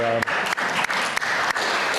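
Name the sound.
applause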